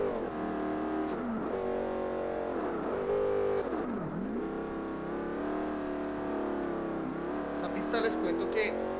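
A Pontiac GTO engine in Forza Motorsport at Road America revs hard and steadily, its pitch climbing and dropping through gear changes across the whole stretch, loud and close, with a voice talking over it.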